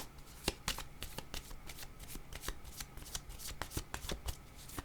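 Tarot cards riffle-shuffled for a card reading, a quick run of crisp, fluttering snaps and soft slaps at close range, fairly quiet with no talking.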